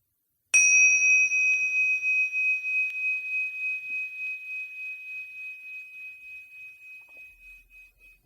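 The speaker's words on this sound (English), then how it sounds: "And when you hear the bell, we can finish." A single meditation bell is struck once and rings out clearly, its pure tone slowly fading with a gentle wavering over several seconds of quiet.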